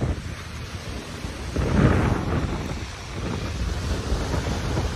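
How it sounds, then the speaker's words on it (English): Large waves crash and surge along the icy Lake Ontario shore in winter, a loud, continuous roar with a heavier break near the two-second mark, buffeted by wind noise on the microphone. "look at these waves."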